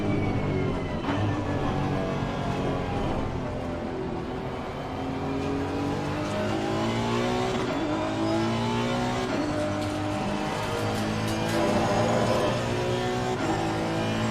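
Race car engine in Assetto Corsa Competizione, with steady loud revving and rising and falling pitch as the car shifts through gears and accelerates again and again, with faint tire squeal and no talk.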